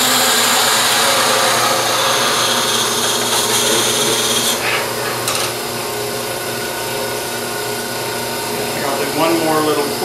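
A power drill spins wood while an acorn Christmas ornament is being turned, giving a loud, continuous motorized whine and grinding that shifts in tone partway through, with speech present under the tool noise.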